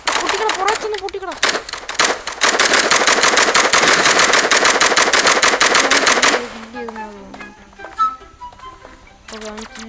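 A shooting video game, Hide and Sike, unleashes a long burst of rapid automatic gunfire that cuts off abruptly, followed by a few scattered shots and game effects while a player talks over it.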